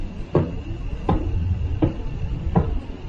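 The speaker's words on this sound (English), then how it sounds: "this star, which is called Tariq, sounds just like the sound of the door being knocked by someone" A star named Tariq, rendered as sound from space recordings, pulses like someone knocking on a door: four evenly spaced, hollow thuds about three-quarters of a second apart over a continuous low rumble.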